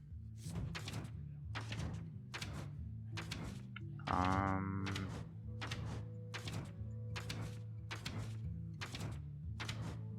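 Hearthstone video game effects while a card is disenchanted: a steady rhythmic series of about a dozen punchy thumps with a brief swelling magical chime in the middle, loud and even, without speech.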